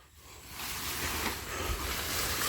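Rain falling with water flowing in a garden during the rainy season, a broad steady wash of noise that swells in after a quiet start and stays close and continuous.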